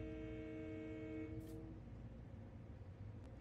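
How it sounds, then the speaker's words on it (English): A train horn sounds in a train video game as a sustained multi-tone blast over a low rumble, cutting off partway through, with a brief hiss after. "Who's honking the horn?"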